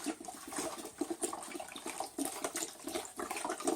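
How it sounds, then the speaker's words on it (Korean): Water pours steadily into a pot of soaked malt for making sikhye, a continuous splashing, gurgling stream heard close and alone for a few seconds. "그 다음에는 여기에 물을 한 번 더 부어주세요"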